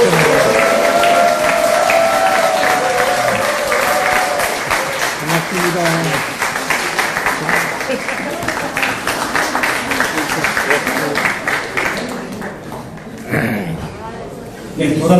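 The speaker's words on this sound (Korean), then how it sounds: "홍준표 대표님께 큰 박수와 함성 부탁드리겠습니다" A crowd of party members and supporters at a Gyeonggi provincial party gathering for presidential candidate Hong Joon-pyo claps and cheers loudly and steadily, with voices mixed in, before the noise thins out near the end.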